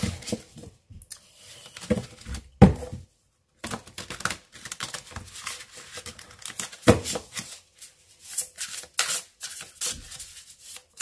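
Tarot cards being shuffled by hand before a cross spread, with irregular bursts of riffling, rubbing and tapping separated by short silences, close and moderately loud.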